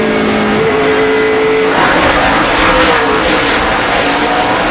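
NASCAR stock cars race around the Bristol short track at night, a loud continuous roar of engines that swells and thickens midway as the pack sweeps past, with no voices over it.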